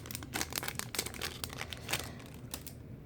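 Foil wrapper of a Decade's Best Chrome baseball card pack crinkling and tearing open up close, a run of sharp crackles and rips over about three seconds.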